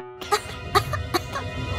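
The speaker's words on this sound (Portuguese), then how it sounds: "Para de tossir." A short run of three or four dry coughs in quick succession, close by, with no speech.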